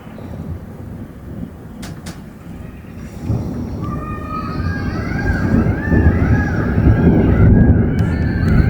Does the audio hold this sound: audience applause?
no